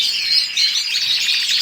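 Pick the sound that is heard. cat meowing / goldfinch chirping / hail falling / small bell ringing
goldfinch chirping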